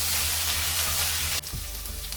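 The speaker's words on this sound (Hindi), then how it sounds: "अभी हम इसको हाई फ्लेम में 2 से 3 मिनट तक फ्राई करेंगे।" Bitter gourd slices frying in oil over a high flame give a steady, close broadband sizzle, with a low hum beneath; the sizzle drops and shifts abruptly near the end, as if the pan is moved or stirred.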